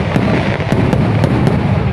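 Festival fireworks explode over Hue, Vietnam, in a dense, loud, continuous roar punctuated by about five sharp, distinct bangs within two seconds, with no voices.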